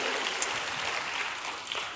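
Church congregation clapping together during a worship service, a soft, even patter of many hands heard from a distance for about two seconds.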